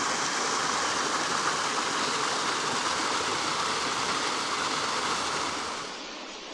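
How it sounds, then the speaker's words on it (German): A small stream runs through woodland near Ratingen toward Mettmann, Germany, with a steady, dense rushing of water that holds even throughout and eases slightly at the very end, with no voices. "hier ein kleiner Bach"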